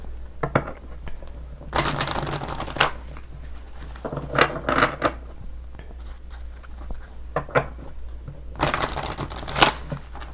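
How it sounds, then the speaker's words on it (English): A deck of tarot cards is shuffled in several separate bursts of crisp riffling and slapping, loud and close, with quiet pauses between them and no talk. "We're going to pull some tarot cards"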